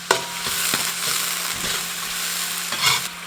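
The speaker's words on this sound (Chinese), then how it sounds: "下入我们准备好的小白菜，把小白菜炒一下" Bok choy and scallions stir-fried in a hot wok, with a continuous oily sizzle broken by several sharp scraping and tossing strokes of the spatula, close and clear, with no talking.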